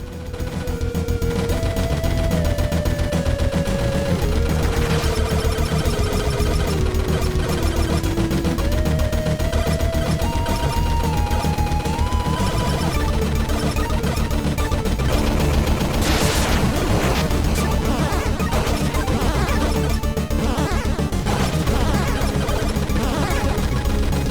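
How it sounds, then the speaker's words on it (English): Boss fight in the retro-style PS4 shooter Super Cyborg, with continuous rapid gunfire and explosion effects layered over loud, driving game music that runs throughout. "let you listen to the sound effects and the music in this game against this boss"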